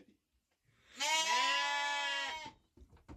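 A milking ewe lets out one long, loud bleat up close, holding steady for over a second before stopping, with quiet barn rustling before and after.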